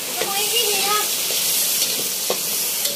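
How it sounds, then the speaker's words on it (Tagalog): Garlic and onion hit hot oil already used for frying, giving a steady, loud sizzle close by with faint stirring clinks, as the base for ginisang munggo with crab and prawns. "Dito na rin tayo magigisa. Lagyan na natin ng bawang. Sunod na natin ng sibuyas."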